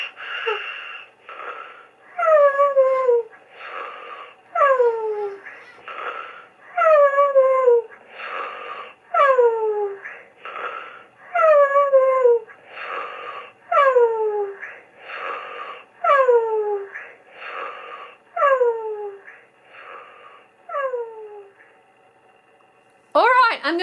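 A FurReal Friends electronic toy puppy by Spin Master snores in sleep mode: a steady rhythm of wheezy, whistling inhale-exhale cycles, each breath with a falling squeaky tone, repeating about every second for over twenty seconds, close and fairly loud, ending in a brief louder squeal.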